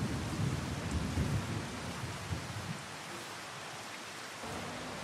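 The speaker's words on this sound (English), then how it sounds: "I love the sound of a thunderstorm in here" Steady rain patters on a surface during a thunderstorm, with low rumbling thunder rolling through the first few seconds before easing into a constant hiss of rainfall.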